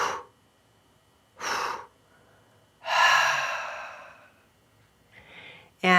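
Slow yoga breathing, close to the ear, in separate drawn-out breaths. Two brief inhales come first, then a long, loud exhale lasting over a second, followed by a fainter breath before another starts at the end, with no talk.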